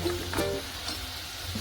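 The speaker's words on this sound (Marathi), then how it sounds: "इकडे मी नूडल्स तळून घेते" Noodles frying in hot oil for a vegetable soup give a close, crackling sizzle with small pops. A couple of faint clinks are heard near the start, with no voices.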